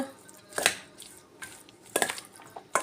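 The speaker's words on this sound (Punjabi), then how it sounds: "ਇਹਨਾਂ ਨੂੰ ਹੁਣ ਆਪਾਂ ਕਰ ਲਾਂਗੇ ਜੀ ਮਿਕਸ" Sharp clinks and scrapes of a spoon against a bowl as Maggi noodles and chopped vegetables are mixed for a sandwich filling, in a few spaced bursts with quiet between, no talking.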